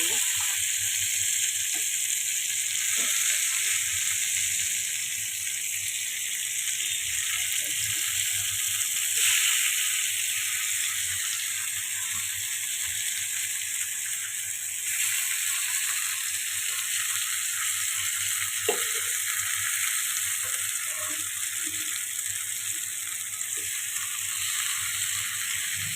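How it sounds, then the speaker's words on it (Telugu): Spicy fish frying in a pan, a steady broadband sizzle and hiss running continuously with faint scattered crackles, fairly constant in loudness throughout. "చక్కగా అయిపోతాయి, మంచిగా ఫ్రై అయిపోతాయి."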